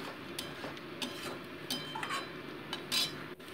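Boiled potato pieces being stirred and browned in spice masala for egg kosha, a spatula scraping and clinking against the pan in steady, close strokes with a faint sizzle underneath.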